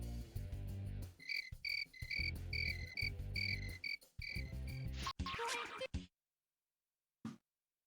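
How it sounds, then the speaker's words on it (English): Cricket chirping sound effect from the You Don't Know Jack video game: a rapid series of bright repeated chirps over a pulsing backing for about six seconds, then silence and one brief final burst. "Crickets?"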